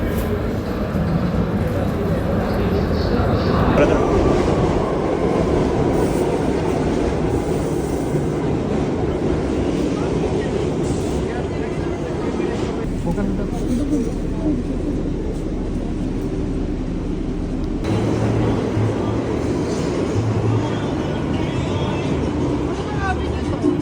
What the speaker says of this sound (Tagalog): Wild din ang train dito Parang ka nasa roller coaster.